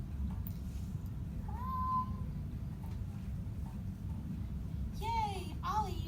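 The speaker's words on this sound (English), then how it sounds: "Ollie, my cat is stuck in the tree and I can't get him down." A cat meows up in a tree, one drawn-out meow followed by a couple of quicker meows, over a low steady outdoor rumble.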